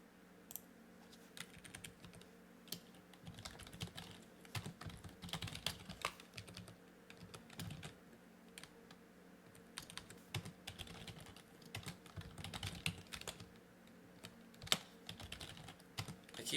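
Rapid, steady typing on a computer keyboard during a coding session: dense clusters of close, crisp key clicks with occasional louder strikes, continuing unbroken with no talking.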